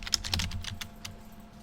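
Keys tapped on a computer keyboard while entering shortcuts in a Java programming setup, a quick burst of several close, crisp clicks over a second or so, with no voices.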